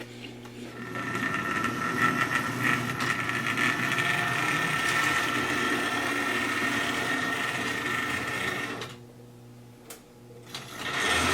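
OO gauge model steam locomotive running slowly on track, a steady close mechanical whirr and buzz that stops abruptly near the end before a faint restart.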